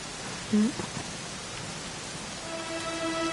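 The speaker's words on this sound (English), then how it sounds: "it was raining like this the last time I ever saw her" Steady rain in the video game Dragon Quest XI makes a soft, even hiss throughout, with a brief tonal chirp early on and faint sustained tones near the end.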